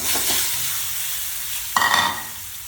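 Eggs fry in hot oil with salt and turmeric and are stirred in the pan, giving a steady close sizzle and a soft scrape, then a brighter burst of sizzling near the end, with no talking.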